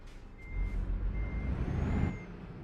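A truck reverses in Euro Truck Simulator 2, its steady high backup beeps sounding over a low rumbling diesel engine, with a hiss of air brakes near the end.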